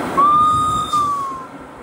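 A train pulls into Eigergletscher station in Switzerland, a drawn-out metallic wheel squeal ringing over low rumbling rail noise for a couple of seconds.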